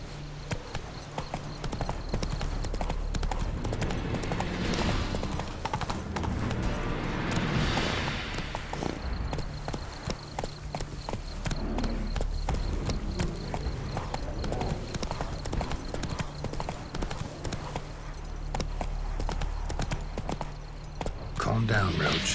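Hooves of the horse Roach clip-clop in a steady trotting rhythm in The Witcher 3, close and continuous throughout, with occasional spoken lines over them.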